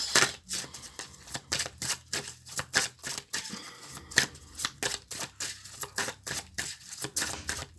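Angel love oracle cards being shuffled for a reading, a steady run of crisp, rapid riffling slaps and flutters, close and fairly loud, continuing without any voice.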